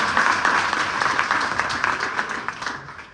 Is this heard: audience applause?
yes